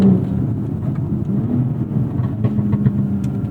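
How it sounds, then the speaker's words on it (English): A 2019 BMW X3 M40i, driven in sport mode with manual paddle shifting, sends a loud, steady exhaust drone and deep rumble through the cabin, with faint pops on top. "this Burble tune is obnoxious"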